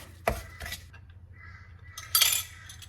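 A utensil knocks and scrapes against a bowl while beaten eggs are mixed for a Bakewell tart, with a few sharp close clinks separated by quiet pauses.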